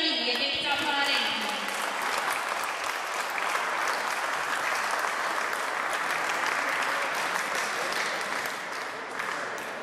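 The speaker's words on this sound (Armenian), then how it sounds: "Եկեք ծափահարենք" An audience at an Armenian junior and adult powerlifting championship bursts into loud, sustained applause that fills the hall and tapers slightly at the end, with a voice briefly heard at the start.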